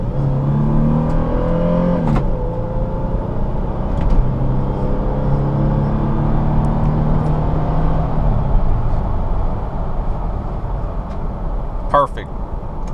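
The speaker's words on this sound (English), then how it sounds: "Do another hard acceleration." A 1999 Toyota 4Runner, a third-generation model with 189,000 miles, gives a steady loud engine rumble that rises as it accelerates hard, with a few brief knocks and clicks over the drone.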